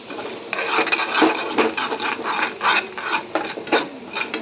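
A spoon stirs a quarter cup of milk into a dish before sweet corn is added. The scraping comes in quick, rhythmic strokes, close up and steady, with no talk over it.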